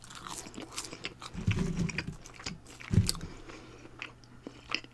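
Crunchy fries are bitten and chewed up close during a fries and onion rings mukbang, with a couple of louder crisp bites among softer chewing, and no talking.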